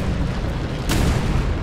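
A single loud bomb blast in War Thunder, a sharp broadband burst near the middle of the clip over a steady low rumble of tank battle noise, with no talking.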